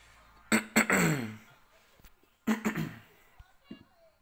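Two bouts of harsh, throaty coughing close by, each a couple of sharp coughs trailing into a raspy exhale, followed by quieter breathing.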